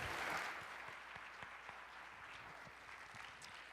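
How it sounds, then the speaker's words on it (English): Audience applause at a conference lightning-talk session, a dense clatter of many hands clapping that swells at the start and then holds steady before easing slightly. "let's give him another round of applause for that as well"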